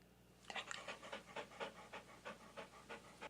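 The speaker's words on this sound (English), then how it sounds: "Here's dog panting." A dog pants in quick, steady breaths, about a dozen rhythmic puffs close to the microphone with no other sound.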